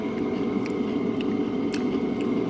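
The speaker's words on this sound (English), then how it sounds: "Let me go ahead and bite into one." Steady close-up chewing of crunchy pickled cucumber in brine with soft wet crunches and occasional brief bites, continuous and fairly loud throughout.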